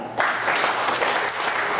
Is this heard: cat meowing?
no